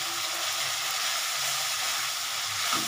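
Spiced masala with a little sugar fries in a pan for a pabda fish curry, giving a steady, close, even sizzle with no pauses and no talking.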